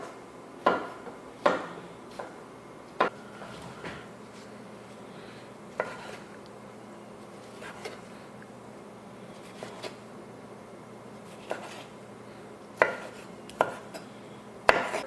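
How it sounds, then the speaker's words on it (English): A knife chops half a tomato into small pieces on a cutting board for guacamole, giving a dozen or so crisp, irregular knocks spaced about a second apart, close and clear over quiet room tone. "We're going to be using half this tomato. Cut it up pretty small."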